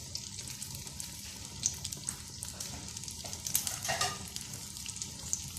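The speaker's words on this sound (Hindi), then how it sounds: "ये मैंने एक डाल दिया है, ये फ्राई हो रहा है।" Peshawari chapli kabab sizzles steadily in hot oil for the whole stretch, a close, continuous crackling fry with small pops and no voices.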